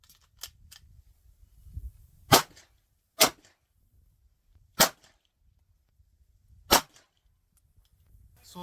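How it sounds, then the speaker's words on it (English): Gunshots fired down range at an outdoor shooting range, five sharp loud reports spaced unevenly over several seconds with quiet gaps between, plus a couple of fainter cracks early on. "About to put some more rounds down range."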